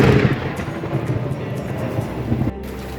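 A thunderstorm with heavy rain and hail rumbles and roars over a sailboat in a bay off Lixouri, Kefalonia, a dense, loud wash of low booming and rushing noise that drops off sharply near the end.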